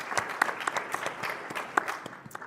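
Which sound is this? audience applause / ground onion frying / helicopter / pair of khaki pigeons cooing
audience applause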